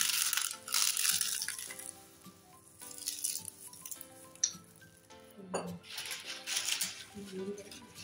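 Potato chips are crushed for bhel puri in a home kitchen, giving a few crackly, crunchy bursts with clinks of utensils and bowls scattered among them, heard up close over background music.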